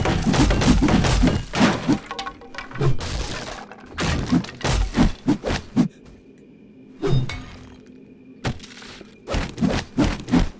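An axe chops into metal-ribbed wood in 7 Days to Die VR: loud, repeated cracking thunks come in bursts with short pauses, some hits splintering and shattering.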